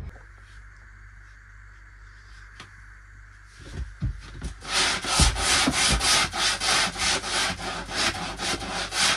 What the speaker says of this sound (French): Tu ponces mes petits enduits parce qu'hier j'ai rattrapé des petits trucs, des petits défauts dans le lambris